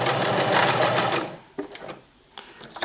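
A sewing machine back-stitches a hoodie seam in a fast, loud, rhythmic burst of needle strokes lasting about a second. It stops abruptly, followed by a few faint clicks.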